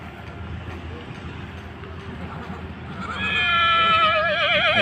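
Horse whinnying loudly close by at a rural horse race and rekla riding event, a wavering high call rising out of background crowd murmur after about three seconds.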